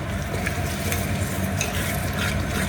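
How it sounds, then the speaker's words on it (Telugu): A spoon stirs five tablespoons of curd into an egg pulao mixture in a hot pan, a steady scraping churn over a continuous low sizzle of oil, close and unbroken with no talking. "సో కర్డ్ అనేది యాడ్ చేసుకున్నాం కదా, ఇప్పుడు అది మంచిగా మిక్స్ చేసుకోవాలి"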